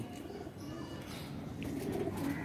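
Soft, low pigeon cooing repeats quietly in a calm setting, faint and close.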